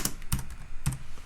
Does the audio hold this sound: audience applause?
no